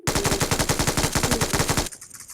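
Rapid automatic gunfire from a scoped weapon in a mobile shooter game, a loud, steady burst of evenly spaced shots for nearly two seconds before it stops abruptly.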